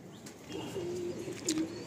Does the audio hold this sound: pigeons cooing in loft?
yes